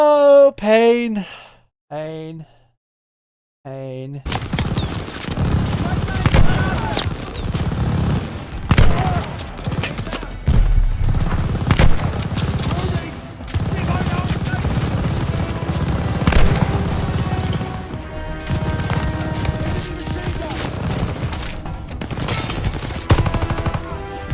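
Sustained assault rifle fire and explosions from the World War II shooter Call of Duty: Vanguard, dense and loud over a rumbling game soundtrack, following a brief moment of melodic music and silence.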